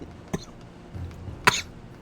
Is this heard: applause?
no